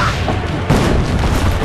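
A cannon fires in the Assassin's Creed: Brotherhood game, one sharp boom landing partway through over a constant noisy battle backdrop.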